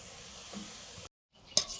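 Mustard oil sizzles and hisses in a pan ready for chicken biryani meat, a steady close frying noise that cuts out briefly, then returns with a sharp metallic clink from the pan.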